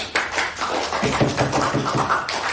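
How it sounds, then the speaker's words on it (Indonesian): Classmates applaud a student in a classroom, a few seconds of scattered, uneven hand claps close by with no talking. "beri aplaus dulu untuk temannya"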